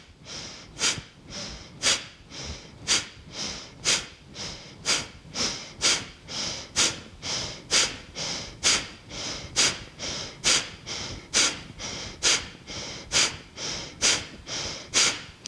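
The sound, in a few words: forceful breathing in and out through the nose during yoga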